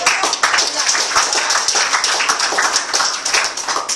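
Scattered clapping from a seated audience at a Malaysian business testimonial event, a loose patter of hands rising and falling throughout without voices on top.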